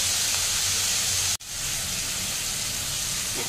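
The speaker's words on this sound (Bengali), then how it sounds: "এবার একটু নুন, মিষ্টি আর জল দিয়ে এটাকে ভালো করে কষাবো" Spiced vegetables for a mixed-veg labra stew hiss and steam steadily in a pan as salt, sweetener and water go in, with a brief cut-out near the middle before the loud sizzling resumes.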